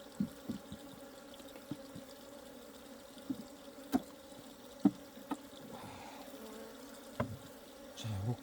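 Honeybees buzz around an opened hive during feeding, a faint steady drone with occasional louder bees passing close and scattered small clicks and taps.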